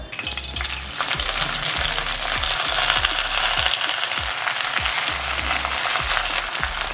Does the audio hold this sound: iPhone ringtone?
no